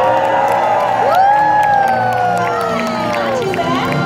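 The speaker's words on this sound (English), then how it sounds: "When I say action, I want you to cheer her on nice and loud" Live audience at an animal actors show at Universal Studios Hollywood cheering loudly and continuously for a performing dog, with whoops and shouting voices rising over the crowd throughout.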